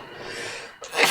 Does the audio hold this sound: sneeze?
yes